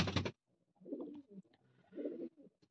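A pigeon coos softly in a few low, throaty phrases close by, with a brief burst of noise at the start and no talking.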